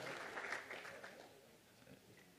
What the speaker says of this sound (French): vous pouvez l'encourager et le soutenir en l'applaudissant quand même